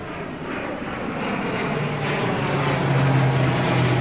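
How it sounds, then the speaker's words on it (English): A plane flies low overhead during the March 2009 Mount Barker bushfires, its engine drone swelling steadily louder and closer over a few seconds. "There's a plane coming through now."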